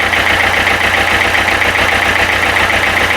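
A Renault Clio 3 engine idles steadily up close after a hard start, with a continuous low throb and even rhythmic pulsing throughout and no talk over it.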